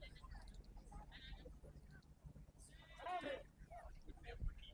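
Sheep-like bleats imitated by voices from a baseball dugout during a Clayton Clovers game, a wavering bleat standing out briefly amid distant crowd murmur and ballpark chatter.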